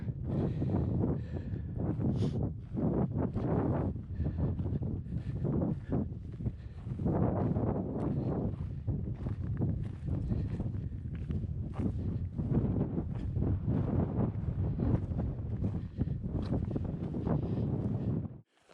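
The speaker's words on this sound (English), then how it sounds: "Been pretty windy up here, so I haven't been doing much video." Strong gusts on a mountain pass buffet the microphone in a continuous low rumble and flutter, loud and close throughout, cutting off abruptly at the end.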